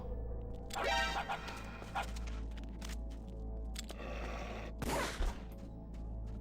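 Dogs bark in Metal Gear Solid: The Twin Snakes, a few sharp barks in bursts over a steady low game hum, with sharp cracks mixed in.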